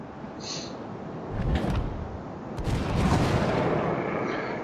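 Battleship USS Colorado firing armor-piercing shells at a cruiser in World of Warships, heavy booming salvos rolling out over continuous engine and sea rumble, two deep blasts a second apart, no voices.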